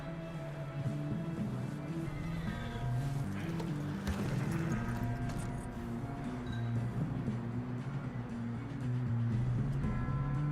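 Horses gallop in the Red Dead Redemption 2 video game, their hoofbeats thudding steadily and fairly close for the whole stretch over a sustained tonal backdrop.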